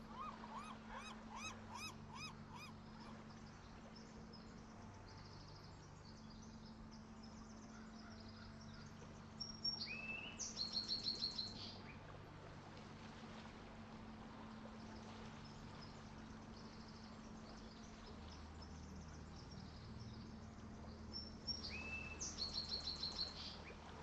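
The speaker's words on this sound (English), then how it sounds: "Those birds are really loud." Birds chirp faintly in two short bursts of high twittering, around the middle and near the end, over a steady low tonal background.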